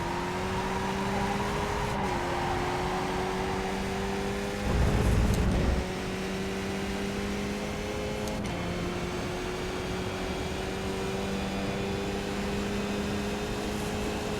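A race car engine from the iRacing simulator at the Mid-Ohio Sports Car Course drones steadily at near-constant pitch, with small shifts in tone and a short louder rumble midway.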